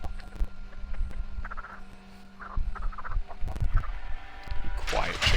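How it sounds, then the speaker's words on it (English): Chicken clucking inside the Texas Chainsaw Massacre video game, short clustered clucks recurring through a busy mix of game sounds and ambience, moderately loud with no speech over them. "You quiet chicken."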